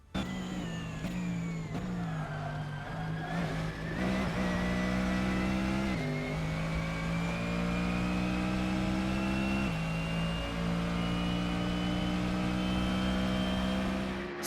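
Mercedes-AMG GT3 race car lapping Montreal in the Assetto Corsa video game, its loud engine droning continuously with sharp upshifts and downshifts and long rising pulls through the gears.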